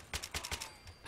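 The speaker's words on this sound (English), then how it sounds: "Let's switch back over to our sniper one and take out whoever's up there." A few quick, faint gunshots from a scoped modded SCAR-LKX rifle in Fallout 4 crack in close succession, four or five sharp reports within about a second.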